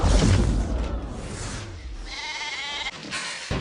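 A sheep gives a single wavering bleat near the end, following a low, boomy rumble and a whooshing swell at the start.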